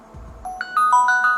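A phone rings through the find-phone feature of a Xiaomi Maimo smartwatch: after a brief low rumble, a loud, close electronic ringtone of bright repeating chime notes begins and builds.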